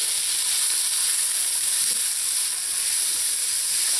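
Vegetables including carrots, seasoned with salt and black pepper, sautéing in a pan for khichdi, giving an unbroken loud, bright sizzle at close range with faint stirring.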